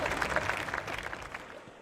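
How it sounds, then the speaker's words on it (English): A brief round of applause, scattered claps with a lively crowd behind, fading over about two seconds. "I had to give myself a round of applause"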